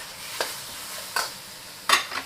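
Pork being stir-fried in a pan: three separate scraping stirs over a soft, steady sizzle, close and with no talking.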